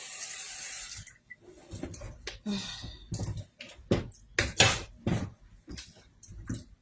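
Water from a tap splashes into a sink in a kitchen while someone adds a small amount to a dish, with bursts of running water and clinks close by.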